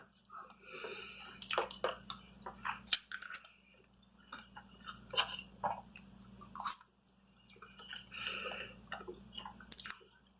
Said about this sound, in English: One cheesy gordita crunch down.